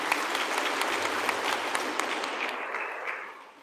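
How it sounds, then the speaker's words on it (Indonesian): An audience claps steadily for a few seconds, a dense patter of applause that fades out at the end. "Perlu kita apresiasi, tepuk tangan"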